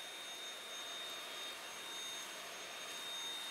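A handheld vacuum cleaner runs steadily and fairly close, a continuous whirring hiss with no changes in pitch or pauses, sucking up shards of glass during an iPad 7th generation screen replacement, with no talking.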